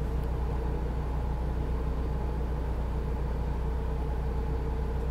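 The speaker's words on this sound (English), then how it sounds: "Driving a big old truck." A big old truck with a check engine light and a death wobble is driving, its engine giving a steady, loud low drone with a constant rumble and no pauses or talk throughout.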